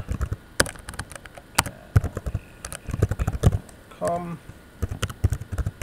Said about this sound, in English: type my password in